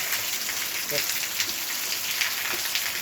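Light drizzling rain patters steadily on surfaces nearby, a soft even hiss of drops, with a few faint voices in the background.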